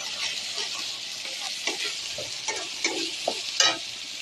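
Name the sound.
onion frying with ginger-garlic paste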